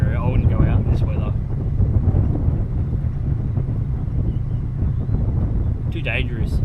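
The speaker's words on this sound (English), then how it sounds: "It's too windy, bro." Strong gusty wind buffets the microphone beside a bay, a constant heavy low roar with no let-up, brief higher whooshes at the start and near the end.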